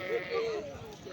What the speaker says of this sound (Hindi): ये भी टॉप क्वालिटी का बकरा है